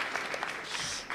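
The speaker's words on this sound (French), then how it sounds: "et on peut l'applaudir quand même" A brief burst of audience applause at a roundtable on low-tech higher education, light scattered claps at moderate distance filling about a second with no voices on top.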